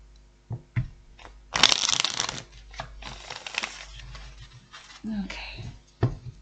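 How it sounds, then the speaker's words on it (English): Cards riffle together in a brisk, crisp burst, followed by softer shuffling, taps and handling noises, with a voice speaking briefly in between. "One last shuffle."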